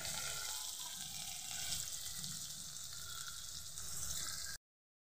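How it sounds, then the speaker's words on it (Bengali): Onions for a chicken biryani beresta frying steadily in a home kitchen, a continuous dense sizzle and crackle holding at an even level for about four and a half seconds before cutting to silence, with no talking. "বেরেস্তাটা ভাজা হচ্ছে"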